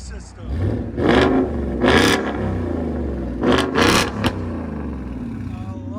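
Up close, a 2023 Ford Mustang GT 5.0L V8 fitted with an MBRP Sport cat-back exhaust blips its throttle in a series of four sharp revs, two pairs with short pauses, over a steady idle, with a voice speaking in between.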